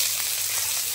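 Onions go into hot oil for a chicken curry, tempered with bay leaves and spices, and sizzle in a steady, dense crackle that fills the whole moment without any talk.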